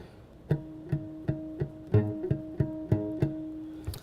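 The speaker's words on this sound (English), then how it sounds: "what they call harp harmonics" A series of bell-like guitar harp harmonics, about a dozen ringing notes in a slow, even rhythm, clear and close with no voices.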